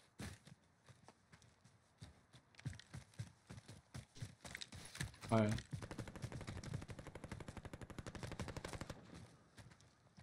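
Gunfire in Call of Duty Warzone (Cold War) with a Sykov loadout: scattered single shots build into long rapid automatic bursts, loud and close, with footstep-like thuds and voices in the background.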